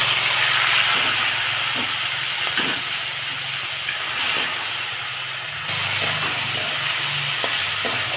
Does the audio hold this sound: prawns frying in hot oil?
yes